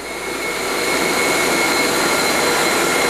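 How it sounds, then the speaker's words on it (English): A Ruwac FRV100 air-powered explosion-proof industrial vacuum runs loud and steady, ramping up briefly to a constant roaring rush of air with a faint high whine while picking up starch. "So what happens is the material is going to come into the vacuum."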